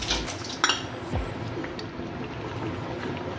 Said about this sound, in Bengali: এবার এই যে থেতো করা গরম মশলা দিয়ে দিচ্ছি, গোটা গরম মশলা।